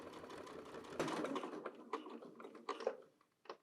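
Sewing machine stitching the body of a bucket tote bag, a fast run of needle clatter with short pauses and a few sharp clicks as the stitching stops and starts, close and fairly quiet.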